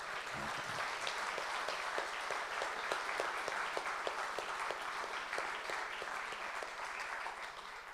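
Concert audience at a reunion festival gives sustained applause for the festival committee, a full, even wash of clapping with a few sharper claps standing out.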